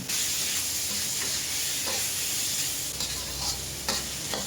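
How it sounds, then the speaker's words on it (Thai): Pounded chili, garlic and shallot paste stir-fries in hot oil with a loud, dense hiss and sizzle, broken by occasional scraping strokes of a spatula, heard close and without speech. "แล้วก็ตามไปด้วย พริกกระเทียมหอมแดงครับ ที่โขลกเมื่อกี้ แล้วก็ผัดให้มันหอม"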